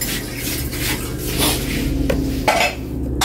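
A cooking pot and metal utensils clink and scrape in a busy home kitchen, giving a few sharp clanks and rubbing scrapes over a murmur of background noise.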